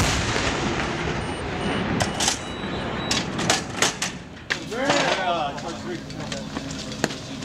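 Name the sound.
howitzer artillery live fire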